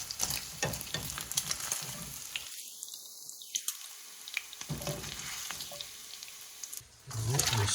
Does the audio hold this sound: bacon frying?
yes